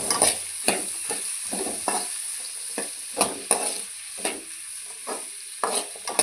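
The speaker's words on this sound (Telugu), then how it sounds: "ఇప్పుడు ఆలుగడ్డలు వేసుకొని కలుపుకోవాలి" Potatoes tossed into a pan with a pinch of turmeric for an eggplant, potato and tomato curry, stirred in close rhythmic scrapes and shuffles over a light sizzle, no voices.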